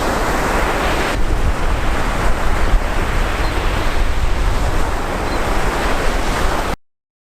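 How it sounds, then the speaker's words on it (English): Strong wind roaring across a beach while whitecapped surf crashes steadily, loud and continuous with heavy wind buffeting on the microphone, no voices, cutting off abruptly at the end. "Started getting really windy and just white caps like crazy"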